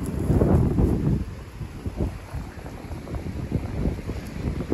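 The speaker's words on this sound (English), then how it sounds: "That wind is absolutely whipping today." Strong wind buffets the microphone on a farm, a loud, rumbling low roar that gusts and eases without pause, with no voices over it.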